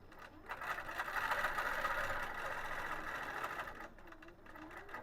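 A longarm quilting machine sews a Dream Big Dahlia panel with a steady, fast mechanical whir that swells and holds for several seconds before easing off, close and without talk.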